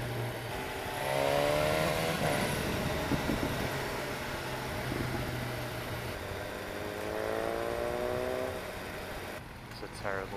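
A BMW S1000R motorcycle cruising on a rough road, its engine droning steadily with shifts in pitch as it accelerates, close-up under wind noise, with a rider talking over it.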